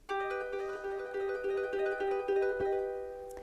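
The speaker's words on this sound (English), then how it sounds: "On the harp, we can do that most easily by playing a 2-handed bisbigliando" Soft, rapid shimmering harp notes flutter continuously on a sustained chord, a gentle rippling two-handed bisbigliando tremolo with no voices.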